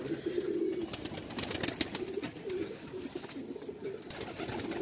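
Punjabi pigeons coo in soft, repeated low murmurs close by, with faint rustling and occasional tapping around them.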